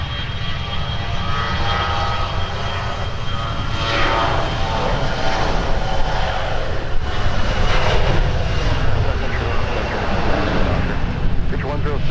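An aircraft departs Minneapolis–Saint Paul airport with a continuous, loud engine roar and rumble that swells and wavers over several seconds, while people talk over it.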